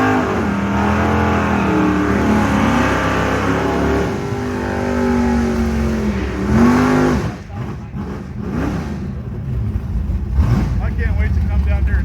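Big block Mopar cars doing a burnout at a drag strip, loud roaring engines with rising and falling revs and tire squeal, dropping off toward the end as crowd noise and voices take over.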